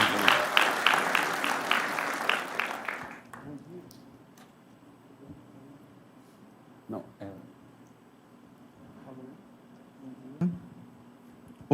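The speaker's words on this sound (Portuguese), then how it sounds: "vamos receber o Marcos com uma forte salva de palmas" Applause from a church audience welcoming a speaker to the front, a dense burst of clapping for about three seconds that stops abruptly, followed by faint room noise and scattered small knocks.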